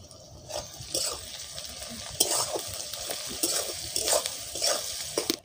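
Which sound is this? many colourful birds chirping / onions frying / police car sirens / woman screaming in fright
onions frying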